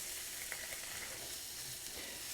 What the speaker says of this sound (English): Okay, let's throw in our beans.